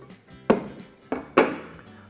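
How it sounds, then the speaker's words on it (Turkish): Cooking pot lifted among dishes in a home kitchen while stuffed grape leaves are being prepared, giving three sharp, close metallic clanks with short ringing decay, with no talk. "Şimdi hemen tenceremizi yanımıza alalım."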